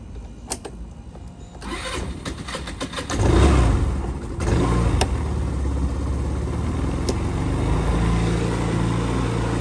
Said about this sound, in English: It's an automatic, so you just give it some throttle and it goes.